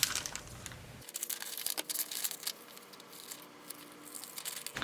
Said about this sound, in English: I like the barn, so I'm going to go ahead and cut that out real quick.